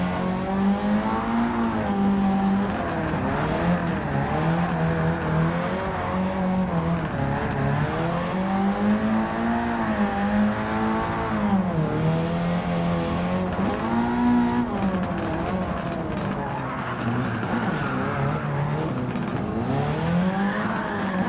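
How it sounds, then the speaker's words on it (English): Engine revs hard and steadily in a racing video game as the car's tires spin while it strains up a steep hill, a continuous loud drone rising and falling with throttle, overlaid with intermittent high tire squeal. "it's like I'm just burning rubber trying to go up the hill because it's so steep"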